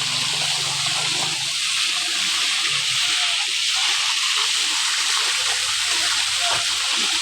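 Shower water runs in a steady, bright hiss from start to end, a constant spray with low background murmur beneath it.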